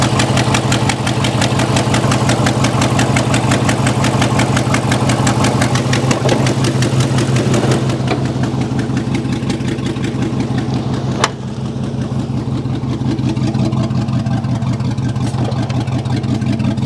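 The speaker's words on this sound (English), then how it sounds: "So although it does have horrible exhaust leaks on both sides, this thing seems to run." Old rusty road salt truck with a Gen3 6.0 LS V8 idling, exhaust leaking on both sides, giving a loud, close, steady rough rumble with rapid ticking pulses throughout and no talk.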